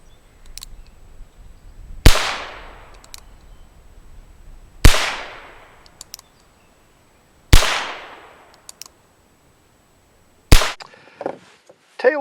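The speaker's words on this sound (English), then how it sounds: "let's give it a go with the cartridge conversion cylinder, shooting 32 Smith & Wessons" A Pietta Remington pocket pistol, 31 caliber, fitted with a cartridge conversion cylinder and firing 32 Smith & Wesson cartridges: four sharp, close gunshots spaced a few seconds apart, each with a short ringing decay, followed by faint handling clatter.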